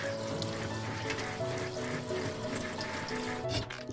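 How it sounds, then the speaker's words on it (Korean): Burdock root is scrubbed under a running kitchen tap, with a continuous close rush of water splashing into the sink and a brief disturbance near the end, with no speech. "먼저 우엉을 흐르는 물에 수세미로 문질러서 씻어주세요."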